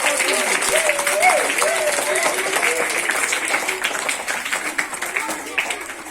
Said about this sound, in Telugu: మనందరి చప్పట్ల ధనుల మధ్య వేదికను అలంకరించవలసిందిగా